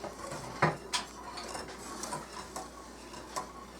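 Four cups of milk being stirred in a pot for hot cocoa, giving scattered light clinks and taps of a utensil against the pot at an irregular pace, close and fairly quiet with no talk.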